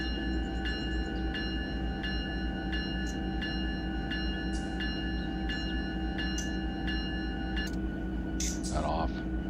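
A locomotive bell in the Run8 train simulator rings steadily at an even pace over a low rumbling engine drone, with a few brief higher noises near the end.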